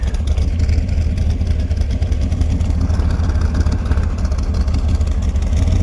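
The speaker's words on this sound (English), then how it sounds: "Got the Corvette leaving us. Listen to that bad boy." A 1969 C3 Corvette engine rumbles loudly and unevenly, its throaty roar holding strong as the car pulls away nearby.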